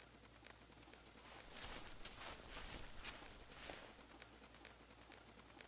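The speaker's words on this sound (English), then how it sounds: "Those birds." Birds coo softly in the outdoor hunting game theHunter Classic, a faint, distant murmur over quiet ambient noise with a few light footstep-like sounds.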